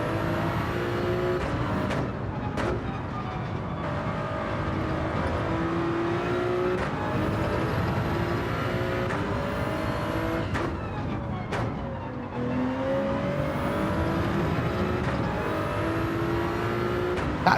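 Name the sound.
Corvette race car engine in video game Gran Turismo 7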